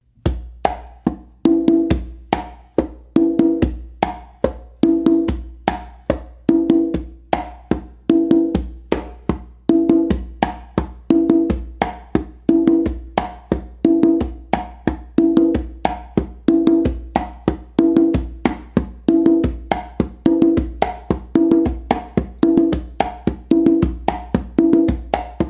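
Hand-played conga drum running a steady tumbao groove, quick muted taps and ringing open tones looping in an even rhythm for the whole stretch, close up with no voices.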